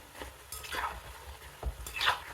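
Small diamond-cut pieces of snack dough fry in a pan, and a spoon stirs them over and over. The soft sizzle comes with faint scraping and light knocks from the stirring, close by.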